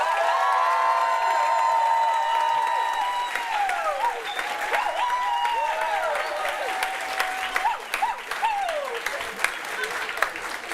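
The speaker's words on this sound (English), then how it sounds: "clap now" Sustained audience applause with whoops and cheering after a debate on climate and health, a steady clapping roar with rising excited shouts layered over it.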